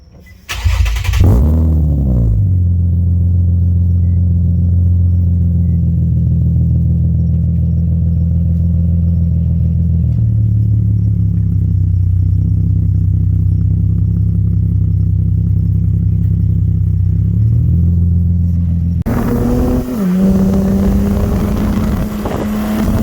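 An Infiniti G37 sedan with an ISR full aftermarket exhaust revs up, drones steadily at a low rumble with wind buffeting, then snarls into another sharp rev near the end.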